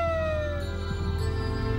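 An SA Ambulance Service siren slowly falls in pitch over a constant low rumble at an Australia vs Ireland International Rules football match, like an emergency vehicle passing nearby.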